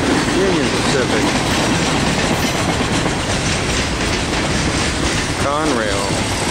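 An eastbound CSX mixed freight train rolls past on the main line toward Baltimore, a loud, steady roar of railcars with continuous clickety-clack wheel rhythm, and a faint voice speaks briefly over it.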